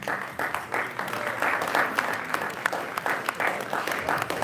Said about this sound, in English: we ask you please hold your applause